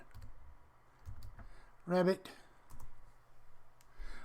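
Light clicking keystrokes on a computer keyboard while a search is typed, soft and close, with a voice speaking over part of it.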